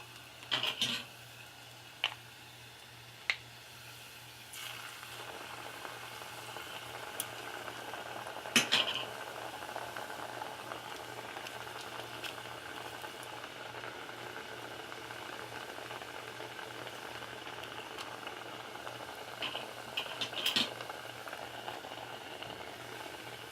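Plantain cups frying in hot oil, a soft continuous sizzle and bubbling held steady in the background, broken by a few sharp clicks and clinks of utensils against the pan.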